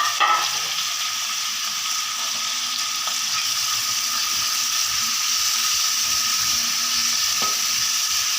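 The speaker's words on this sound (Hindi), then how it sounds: "इसके अंदर ये वेजिटेबल्स फ्राई होंगी" Vegetables, mushrooms among them, fry in oil for black pepper chicken with no sauce, giving a steady, loud, even sizzle that carries through alone, broken only by a couple of faint clicks.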